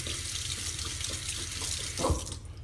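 Tap water pours steadily through a sieve to rinse tomato pulp from seeds, a continuous close splashing hiss with a brief louder splash near the end, no talking.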